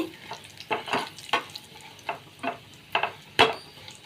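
Oil crackles and spits in a pan as garlic and dried chillies fry while a spoon stirs, sending out sharp bursts of sizzle every half second or so, loud and close.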